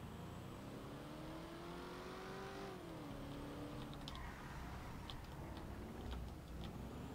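A truck engine in GTA roleplay drones steadily at low level, its pitch rising then dipping sharply as the vehicle spins out, followed by faint clicks and ticks.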